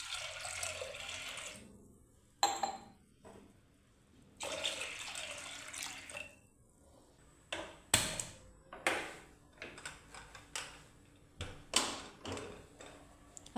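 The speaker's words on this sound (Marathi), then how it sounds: "आता या डाळीमध्ये 2 ग्लास पाणी टाकून घ्यायचं आहे." Water poured from a glass into lentils for cooking, giving splashy pours followed by a string of close taps and clinks of vessels, fairly faint and close by.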